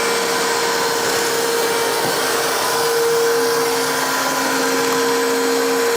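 A Tineco iFLOOR 3 Breeze wet-dry vacuum runs on carpet, sucking up scattered chips with a loud, steady motor whine and airflow hiss, one brief rattling bump partway through, no talking.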